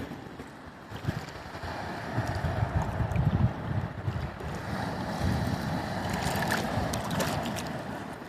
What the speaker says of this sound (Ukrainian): від моря, яке жене на берег